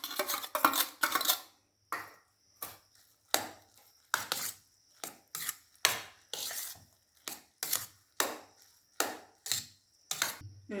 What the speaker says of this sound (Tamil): இந்த பைத்தம்பருப்பை வேக வச்சு வச்சுருக்கோம்ல அதையும் இதோட சேர்த்து கிளறணும்